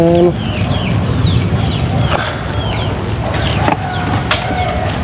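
Native chickens cluck steadily at a nest where hens lay eggs, a dense close chorus of clucks and calls with a few higher squawks running throughout.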